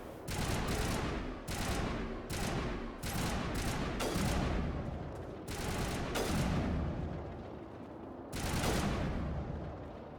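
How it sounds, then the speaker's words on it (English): Bursts of gunfire ring out in Mass Effect Legendary Edition, repeated volleys of loud shots in clusters with brief gaps between them, heavy and close throughout. "Who are we shooting at?"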